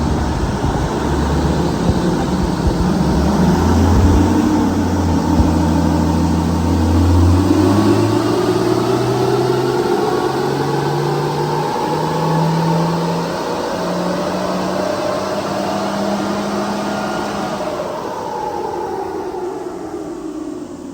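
A car with a 1HDFTE diesel engine swap roars through a long pull on a dyno, engine note climbing steadily in pitch over many seconds, loud and close, then easing off near the end.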